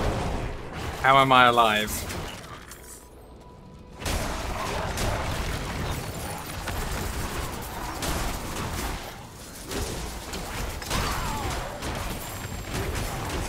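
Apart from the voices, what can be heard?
bombs exploding in the Diablo 4 video game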